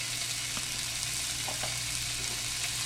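Cold pork bites sear in a hot pan, giving a steady, close frying hiss with faint crackles throughout.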